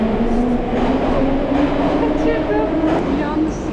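A St. Petersburg metro train pulls out of the station with a loud, steady rumble and rail noise, with faint squeals and clatter over it and a voice speaking briefly nearby.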